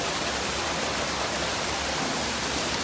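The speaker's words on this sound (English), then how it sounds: "Nice little waterfall here." A small waterfall pours in a hot setting, giving a constant, even hiss of falling water at moderate level with no voices over it.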